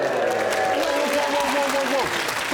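A television panel show studio audience claps steadily, a moderate wash of applause with voices talking over it.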